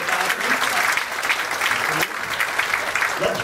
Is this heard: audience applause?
yes